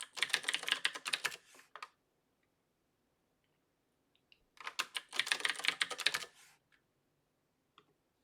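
Bursts of rapid typing on a computer keyboard running a network scan from a Kali virtual machine, two dense clattering runs of keystrokes separated by a quiet pause, close and clear with no talk.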